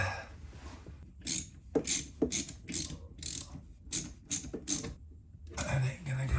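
A hose clamp is tightened below a bulb on a hose while installing a Chinese diesel heater, giving a series of sharp ratchet clicks in short irregular bursts, close up, with a voice speaking at times.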